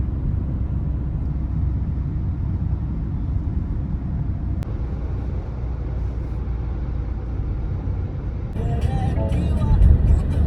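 Steady road rumble and engine drone inside a Renault Duster 1.3 petrol turbo cruising on its own under driver-assist, a continuous broad wash of noise with a brief click and some rattling toward the end.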